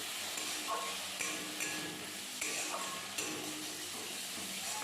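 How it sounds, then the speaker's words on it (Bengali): Fried potatoes and onion greens are stirred in a hot pan, with a steady close sizzle and soft scraping that carries on through the whole stretch. "খুব ভালো করে সব কিছু আবারও নেড়ে চেড়ে নিচ্ছি"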